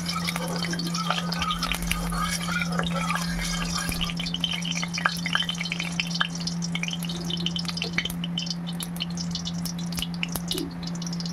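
Nigella seeds hit hot mustard oil, giving a fine crackling, popping sizzle with scattered drips and ticks, set over a steady low electrical hum throughout.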